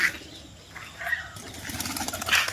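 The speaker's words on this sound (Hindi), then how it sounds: "आप देख सकते हो कबूतर सब, अमुक कबूतर खा के पानी पी रहे।" Pigeons at a stud farm, eating and drinking water, flap their wings in a few close bursts, with faint cooing between the flutters.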